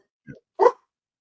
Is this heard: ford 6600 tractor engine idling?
no